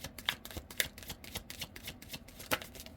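A deck of tarot cards is shuffled by hand, giving a continuous riffle of soft flicks and slaps with irregular sharper snaps, close and quiet, with no talking.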